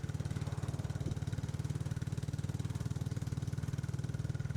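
Royal Enfield Classic 350 single-cylinder engine while riding, a steady, even, low thumping pulse at constant speed, moderately loud with faint wind noise.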